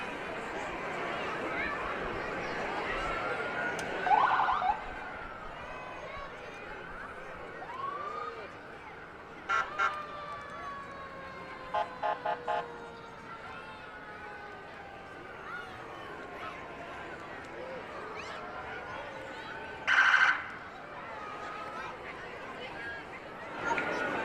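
Fire truck sirens at a Christmas parade wail in rising and falling sweeps, fairly distant, under continuous crowd chatter and nearby talking, with a few short horn-like blasts.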